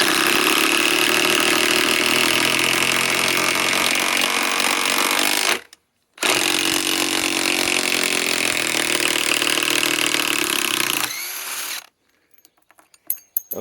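A DeWalt DCF891 mid-torque impact wrench on a 1.7Ah Powerstack battery drives a big 10-inch lag, giving loud continuous hammering bursts with a short pause near six seconds before the run ends and trails off.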